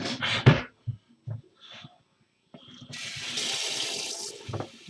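Water splashes and trickles onto a kitchen table in short bursts at first, then pours more steadily for the final couple of seconds, fairly close and with no one talking.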